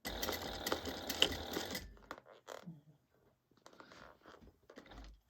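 A sewing machine stitches through a crossbody bag with wire inside, running in a loud, steady burst for nearly two seconds, then stopping; quieter handling sounds and faint talk follow.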